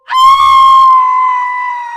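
One long, loud scream sound effect for a horror story. It rises sharply, then holds a steady pitch for about two seconds and slowly fades, with no other sound.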